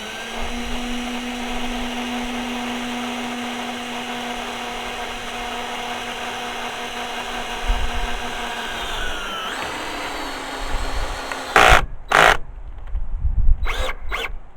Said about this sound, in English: I'm just going to fire a couple of screws in